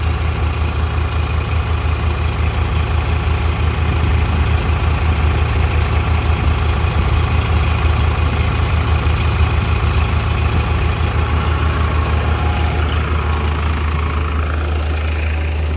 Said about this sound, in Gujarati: તો આપણું ટ્રેક્ટર 11 રેસ ઉપર હાલે છે